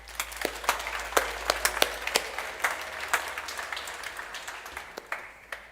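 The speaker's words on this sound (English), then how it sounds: "I would say a great applause for yourself to start this day." Scattered audience clapping at the opening of a third-year student project showcase, individual sharp claps standing out near and distinct over a thin, quiet wash of applause that gradually thins.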